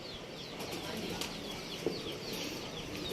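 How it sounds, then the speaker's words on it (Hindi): Pigeons flap their wings, with soft, fluttering bursts of wingbeats and faint bird calls over a quiet, breezy outdoor background. "ये है कबूतर।"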